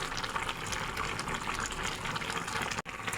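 Liquid poured steadily into a simmering tilapia curry with cauliflower and potato, a continuous close splashing and bubbling wash that runs throughout, broken by one brief drop near the end.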